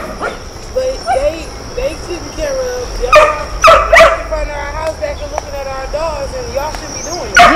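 Abandoned pit bull on a heavy chain, barking in short bursts and whimpering in high, wavering whines, close by, with people talking in between.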